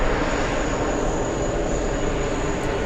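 A jet arrives on runway 22 right at JFK airport, a loud steady engine roar that fills the air for the whole stretch, with no talk.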